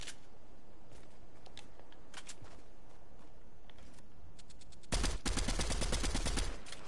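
Gunfire in a shooting video game: scattered single cracks and short bursts for several seconds, then a louder, rapid automatic burst near the end, with no talk.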